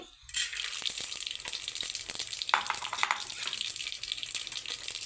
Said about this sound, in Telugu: మనము పోపు దినుసులు వేయించుకుందాం